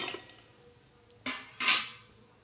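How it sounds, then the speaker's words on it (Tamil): Cleaned cauliflower florets are dropped into a bowl, making two quick clattering knocks in succession, close and moderately loud in an otherwise quiet kitchen. "காலிஃப்ளவரை ஒரு கிண்ணத்தில் போட்டுக்கலாம்"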